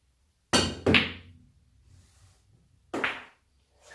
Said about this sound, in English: So I'll just play a quick shot, bar cushion,